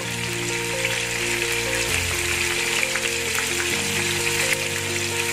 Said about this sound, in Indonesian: saya goreng lagi yang kedua kalinya